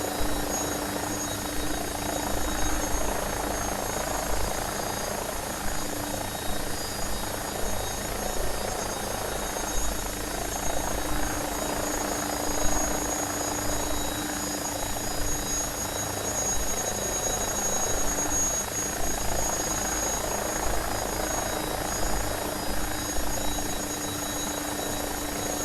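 An AgustaWestland AW109SP helicopter in a flight simulator game hums continuously with a steady turbine whine and rotor drone, constant and unchanging throughout with no talk.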